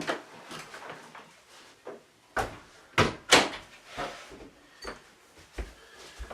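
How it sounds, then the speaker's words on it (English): A door being shut in a home, with several sharp knocks and thuds of the door and latch at uneven intervals, close and fairly loud against a quiet room. "I'm going to close this door here for a moment"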